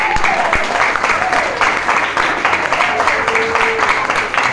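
Congregation applause during a French-language church service, steady dense clapping throughout with voices calling out over it and faint tonal sounds in the background.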